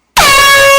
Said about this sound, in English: Are they all Jamaican air horn?